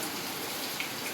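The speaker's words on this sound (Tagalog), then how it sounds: "Malakas ng ulan eh, may bagyo." Steady, dense hiss of heavy typhoon rain pouring down, a constant wash of drops with no pauses and no voices.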